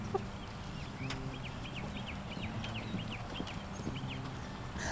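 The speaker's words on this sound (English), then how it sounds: "the horses are just running full bore across the pasture" Horses gallop across an open farm pasture in a steady clip-clop of thudding hooves, with chickens clucking and faint bird chirps scattered over the low rumble.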